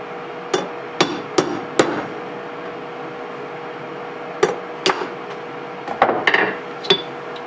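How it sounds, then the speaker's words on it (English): A hammer taps a pin out on a steel bench block in a workshop, sharp metallic strikes arriving in small clusters of two to four, close and ringing over a faint steady hum. "I'm just going to tap this out on my bench block."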